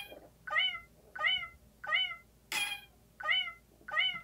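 A cat-meow metronome sound in the BandLab music production app plays six evenly spaced, clear meows at a steady tempo, the fourth one brighter and more accented, with nothing else behind them.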